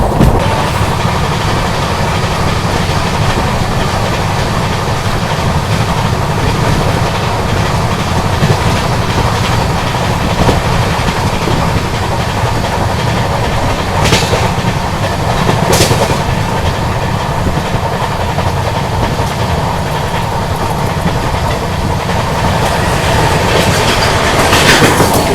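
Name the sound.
West Coast Superfast Express train running at 130 km/h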